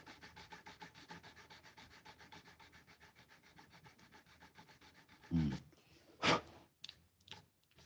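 Sandpaper rubbed back and forth on wood while truing one side level to a marked line, a steady rhythmic scratching stroke about twice a second, close and moderately loud, then a couple of sharper bumps and knocks near the end.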